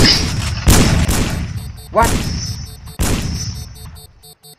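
Three loud, sharp gunshots about a second apart, each followed by a ringing tail, with a brief spoken exclamation and faint electronic beeps.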